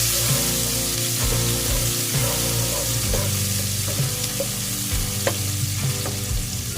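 Cooking oil heats in a pan for fish escabeche, hissing and sizzling steadily and close up with occasional clinks, no voices.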